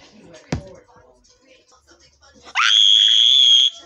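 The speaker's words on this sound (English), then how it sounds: "You scream like a girl!" During a Squid Game–style rope-pulling game, a sharp smack comes early, then faint murmuring, then a sudden loud, high scream that holds for about a second before cutting off.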